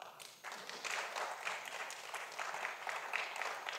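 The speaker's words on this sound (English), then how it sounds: "You deserve a clap." Attendees at the official commissioning ceremony of Ghana's GOALS project applaud, with dense, steady clapping rising after a brief quieter start and continuing at moderate, slightly distant volume.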